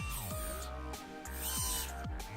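An LG G6 phone plays a robotic sound effect: loud synthetic warbling tones with repeated downward pitch sweeps and a bright buzzing texture, filling the whole moment.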